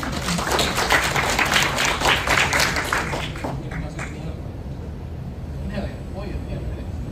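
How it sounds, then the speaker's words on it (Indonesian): Audience clapping for two speakers at an Indonesian medical Q&A session, a burst of many hands that fades over a few seconds into quiet room sound. "Kita berikan aplaus kepada kedua pembicara"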